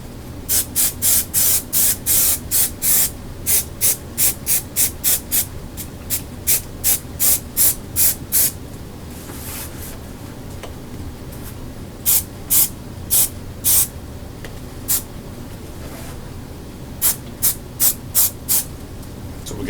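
Adhesive coats are sprayed onto a car dash pad in a garage, in sharp, close hissing bursts that come in rapid repeated pulses and then in shorter spaced sprays.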